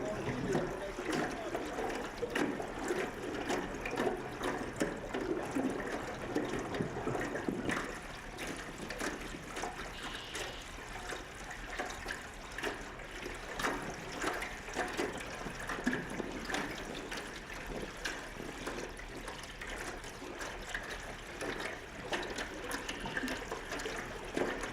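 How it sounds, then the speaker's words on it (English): Water lapping against the bottom of a boat, a soft, continuous trickling and sloshing heard close by at low volume, with faint voices in the background. "That sound is the water lapping at the bottom of the boat."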